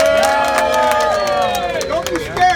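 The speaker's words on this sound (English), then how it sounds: "give a round of applause" A crowd at a labor protest outside Uber's Southwest Philadelphia headquarters cheers and claps up close, with raised, whooping voices riding over steady hand claps for the whole stretch.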